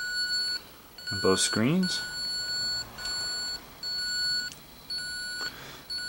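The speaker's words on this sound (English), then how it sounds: "Notice we're getting a high coolant alarm" A high coolant temperature alarm on an SMX DigitalView dual-station display for a mechanical Cummins engine beeps in steady repeated pulses, with a voice talking over the first part.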